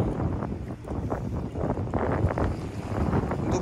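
Strong coastal wind buffeting the microphone on a shallow rocky cliff during shore fishing, a loud continuous rumbling roar with gusty surges throughout.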